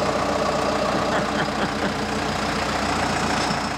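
A Cummins diesel engine powering a 13-yard ship crane grapple idles at low RPM, a loud, steady, close rumble with an even low throb and no voices.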